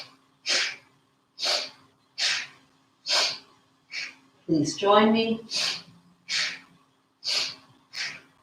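Rhythmic, forceful breathing in and out through the nose and throat during a dance-yoga session: about ten sharp, evenly spaced breaths, close and clear, with a short spoken phrase in the middle.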